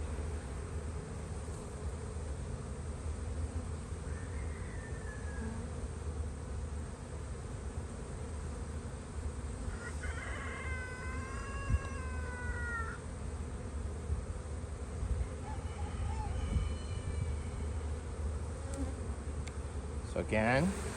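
Honeybees buzzing at an opened hive during a spring inspection, a steady close insect drone running throughout, with a few brief higher tonal chirps rising over it.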